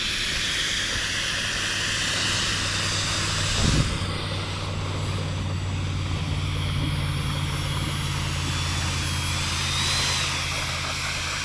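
Model jet aircraft on a test flight, underpowered, with flaps in use: a steady engine drone runs throughout at moderate distance, with a brief louder burst near the middle and a faint rising whine later.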